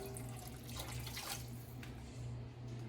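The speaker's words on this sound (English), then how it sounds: "so we're gonna add the 2 cups of water" Water from a tap pours steadily into a cooking pot for rice, a continuous splashing rush with a low hum underneath, with no pauses and no talk.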